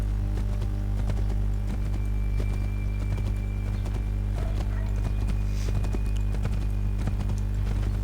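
Horse hooves clip-clop steadily at a walking pace in Assassin's Creed 3, a continuous run of soft thuds over a low constant game hum, with no talk.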